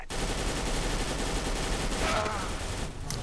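Gunfire from a CS:GO Arms Race match with a Galil in play, a dense, continuous stream of shots at steady loudness through the whole stretch.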